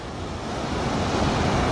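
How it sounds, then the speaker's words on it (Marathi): Rough sea waves at Bhandarpule beach near Ratnagiri break and wash ashore in a continuous loud roar, swelling slightly as the surf builds, with wind buffeting the microphone and no speech. "आणि या लाटा थोड्याशा आक्रमक वाटतात मित्रांनो।"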